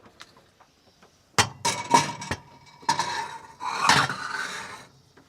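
Clanks and scrapes of a lid going onto a sourdough pot and the pot sliding into a small 450-degree RV oven, a few sharp knocks followed by a rattling scrape and a closing clatter, close and alone.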